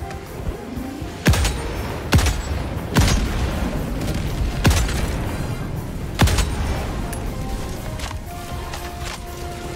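Gunfire in the co-op shooter Helldivers 2: about six sharp, booming shots, irregularly spaced, crack out over a constant battlefield rumble and hiss.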